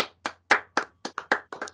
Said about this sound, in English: let's give Connor a round of applause.